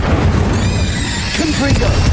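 A spell cast in Hogwarts Legacy: an Incendio fire spell bursts with a whooshing, flaring roar amid dense battle noise, sustained and loud across the moment alongside other combat effects.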